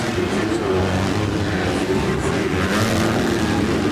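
Supercross motorcycles racing out of the first turn at a 2025 event in Indonesia: a dense, steady roar of several engines revving together at close range, with no clear break.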